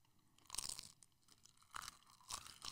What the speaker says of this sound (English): Nobody wants to hear the crunch. It's like when you hear people chewing.